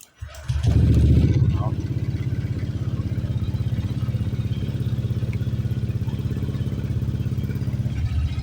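A Honda Click 125 scooter engine fires up after a brief cranking sound, then settles into a steady, even idle that chugs on close by.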